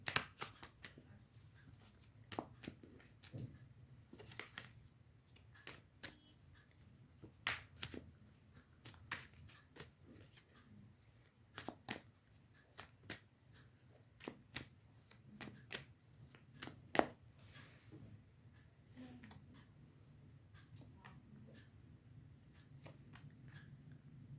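Tarot cards are shuffled by hand in a quiet room, giving a long run of soft, irregular riffling taps and snaps.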